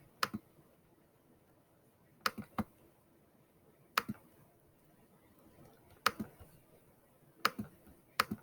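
Sharp mouse clicks while working in a drawing program, arriving singly or in quick pairs and triplets at irregular intervals of about two seconds, each a crisp, close tick against a quiet background with no talking.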